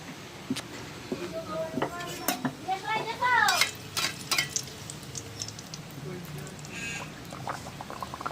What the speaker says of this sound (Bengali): লুচি কিন্তু বাবা বেলে দিচ্ছে আর আমি ভেজে দিচ্ছি